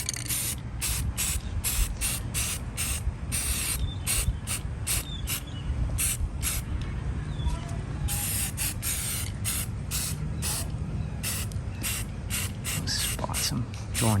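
Aerosol spray paint hissing steadily as a coat goes onto fireplace blocks for an electric fireplace build, heavy on spots then lighter, with short pauses and a faint rattle between close bursts.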